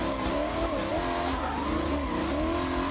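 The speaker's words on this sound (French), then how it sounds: "Là, j'accélère, je débraye, je reprends l'intérieur." A BMW E38 740i drifts on a short circuit, its engine droning steadily under accelerating revs while the tires squeal and skid continuously, loud and close throughout.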